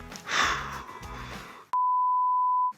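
A sustained censor bleep, a steady pure tone lasting about a second, cuts off muffled speech and noise, then stops abruptly before the clip ends.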